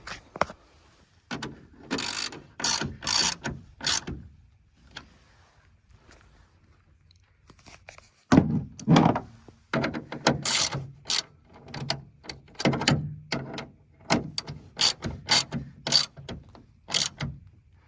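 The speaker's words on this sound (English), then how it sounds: "swap out for your T50 and tighten these top bolts" Ratchet with a T50 Torx bit tightening the top bolts of a slide-in camper bracket on a 2017+ Ford Super Duty truck, heard as close bursts of rapid clicking strokes, a quiet pause, then a longer run of ratcheting.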